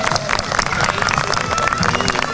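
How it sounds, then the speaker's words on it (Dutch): An audience applauds and cheers for Johnny de Mol at a DVG football club charity event: a dense, continuous wash of clapping and crowd noise that stays loud and even throughout. "Maar ik wil een heel groot applaus voor deze grote man"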